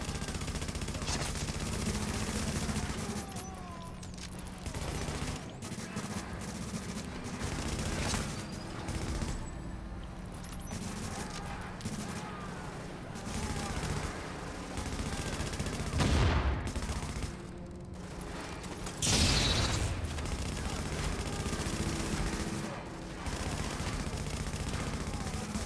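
Bursts of gunfire echo through a legendary duo mission at Warrengate Power Plant in The Division, with continuous rattling exchanges and a few sharper, heavier blasts. Players chatter faintly underneath.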